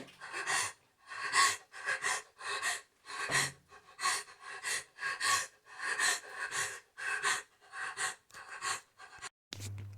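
Heavy, panicked breathing up close, a steady run of sharp gasping inhales and exhales repeating for several seconds, ending with a brief thump.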